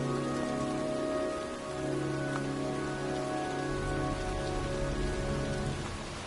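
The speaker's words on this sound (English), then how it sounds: "It's cold. It's raining. I'm standing outside getting soaked." Steady rain falls outdoors in the video game Heavy Rain, a constant close hiss of drops on the ground with a low tonal hum underneath, no voices.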